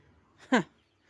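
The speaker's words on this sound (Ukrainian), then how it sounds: "Прийшлося перетягнути по шиї качура пару раз" A domestic drake lets out a single short, harsh squawk while being slaughtered, close and sudden, preceded by a faint softer sound and followed by near silence.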